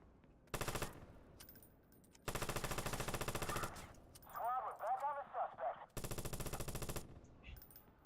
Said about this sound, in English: I'm just testing, shooting the walls and stuff.